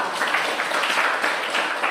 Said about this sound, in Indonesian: Tepat sekali, berikan tepuk tangan.